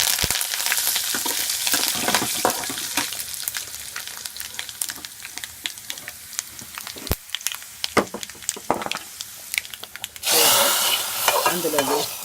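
Curry leaves fry in hot oil for South Indian sambar, crackling and spattering loudly and close up with sharp pops, then a sudden burst of heavier sizzling near the end.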